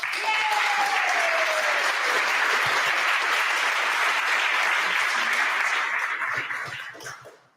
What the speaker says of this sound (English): So a huge applause to all of you.